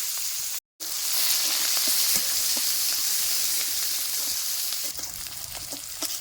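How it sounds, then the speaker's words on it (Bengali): Chopped onion fries in oil with cumin and carajillo seeds in a kadai, giving a steady, close, dense sizzle broken by one brief dropout, with a few soft stirring ticks throughout. "পেঁয়াজটা সুন্দর ভাজা হয়ে গেছে"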